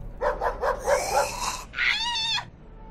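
Dogs bark in the video game Parasite, a quick run of sharp close yips followed by a drawn-out whining howl.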